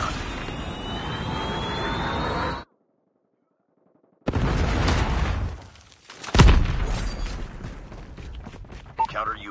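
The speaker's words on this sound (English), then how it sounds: "Friendly Predator missile inbound." A Predator missile strike in Call of Duty Mobile: rushing engine noise, then silence, then a loud booming explosion amid game combat sounds, with game voice announcements in between.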